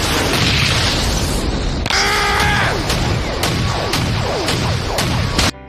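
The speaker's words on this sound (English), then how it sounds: "The punches that connect or are blocked sounds like explosions going on." Punches landing or being blocked in the Hajime No Ippo boxing anime crack like explosions, a run of sharp booming impacts spaced across the clip with a brief whooshing rush in the middle.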